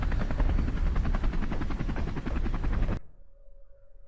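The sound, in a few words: helicopter in the video game Terminal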